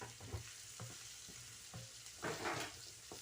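Thick-cut onion sizzling in hot oil in a pan for chatkharedar karari bhindi, a close steady frying hiss with a few stirring scrapes and clatters, no talk.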